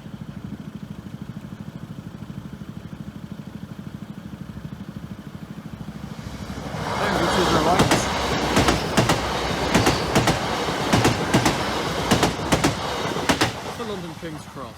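A train runs through the Skellingthorpe Road level crossing in Lincolnshire, starting as a low steady rumble and then swelling into a loud, close rush with repeated clickety-clack wheel beats over the rails.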